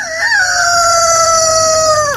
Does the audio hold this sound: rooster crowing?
yes